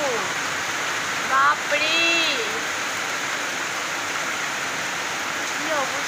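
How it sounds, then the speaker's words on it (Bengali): Heavy rain pours steadily as a dense, continuous wash of noise close by, while a person speaks briefly and birds chirp faintly through it. "আরো জোরে বৃষ্টি এসে গেছে"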